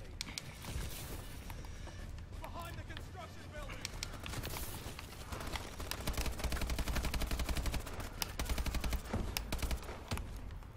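An AK-12 rifle in a video game fires rapid bursts of automatic gunfire that grow denser in the second half, sharp and close, mixed with other game sounds and talk.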